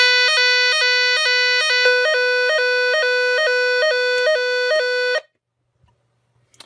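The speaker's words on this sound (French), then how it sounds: "la sirène elle fait un drôle de bruit" A Nugelec Planete type 4 alarm siren, model NUG31218, sounds with an odd pulsing electronic tone, a loud repeating beep pattern that stops abruptly, followed by near silence with a few faint handling knocks.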